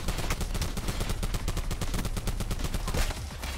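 Scythe weapon firing in Black Ops 4: a rapid, unbroken stream of loud automatic gunshots at a steady fast rhythm, close and dense for several seconds with no talking over it.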